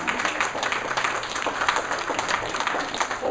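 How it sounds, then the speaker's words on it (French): An audience applauds an art prize winner at the closing of the Saint-Martin art salon, a steady patter of many hands clapping throughout. "on peut l'applaudir aussi"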